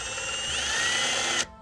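A power drill runs at full speed while drilling into stone for a grave surround, a steady high whine that rises slightly in pitch, then cuts off abruptly near the end.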